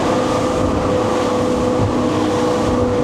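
Grady White 386 Canyon offshore boat running on triple Yamaha 450hp outboards, a loud, steady droning engine roar with water rush, holding nearly constant as it eases off speed, no voices.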